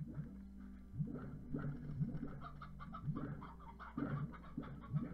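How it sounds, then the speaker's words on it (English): An elder hen in the game Slime Rancher clucks repeatedly in a steady, bobbing rhythm, soft and fairly close, with no talking over it. "There's an elder hen"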